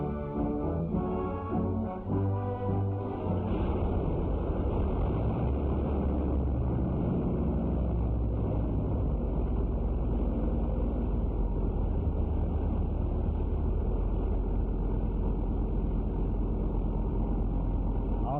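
A World War II–era aircraft engine runs continuously on a factory test bench in a heavily insulated room, giving a loud, steady, dense roar that stays unbroken throughout, with no voices.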